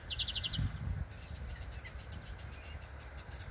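Short bursts of high bird chirps near the start, then fainter scattered calls over a steady low rumble of background noise.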